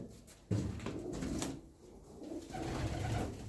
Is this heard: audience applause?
no